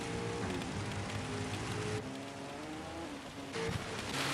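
Rain during a wet Le Mans race in a racing video game, a dense continuous hiss of spray and downpour layered with the droning whine of race car engines shifting pitch in the background.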